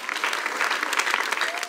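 A church congregation claps in a dense, continuous burst of applause, with voices mixed into the crowd sound.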